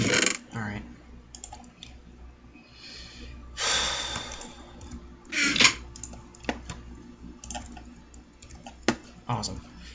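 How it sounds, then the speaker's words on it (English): Background clicking, like mouse or keyboard clicks, picked up by a very sensitive microphone during a Minecraft session, scattered as sparse sharp ticks through the clip with a few louder bursts of breath or noise. "If you can hear the clicking in the background, it's because my mic is insanely sensitive."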